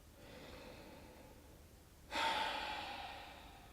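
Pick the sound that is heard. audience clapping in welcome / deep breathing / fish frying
deep breathing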